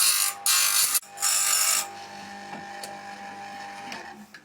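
Saw chain being sharpened on a sharpening machine in a tool workshop: two short, loud grinding bursts, then a quieter mechanical hum with faint clicks.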